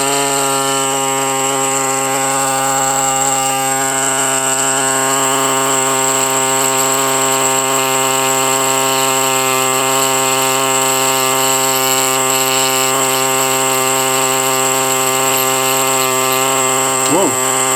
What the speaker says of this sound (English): So, take your air scribe.